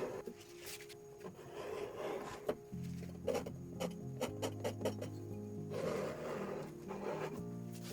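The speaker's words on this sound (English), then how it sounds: "So I'm going to scrape this off and go over it with some white" A palette knife scrapes wet paint off a canvas in a series of close, rasping strokes, short rubbing passes with small clicks between them, fairly quiet against a faint steady hum.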